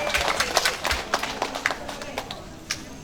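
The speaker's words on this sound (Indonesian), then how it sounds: "Tepuk tangan dong ibu-ibu hamilnya." Pregnant women in an audience at a vaccination outreach event give scattered, uneven clapping that thins out toward the end, moderately faint, with some voices murmuring alongside.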